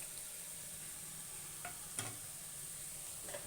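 Tomato puree fries in a pan with a faint, steady sizzle and a few quiet taps of stirring.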